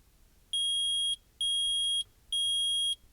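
Three evenly spaced electronic metal detector beeps from Phoenix Wright: Ace Attorney Trilogy, each a sustained high tone lasting about half a second, clean and loud against near silence.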